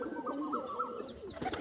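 Pigeons flying overhead and cooing, soft repeated bird calls over a steady outdoor background, with a brief flurry of sharper sounds near the end.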